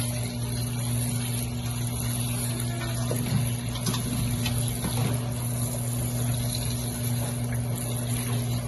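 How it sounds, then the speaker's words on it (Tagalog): Hot water poured over La Paz batchoy, an Ilonggo noodle soup, as a steady continuous pour and splash under a constant low hum, without talk. "Tapos, tsaka natin siya bubuhusan ng mainit na tubig."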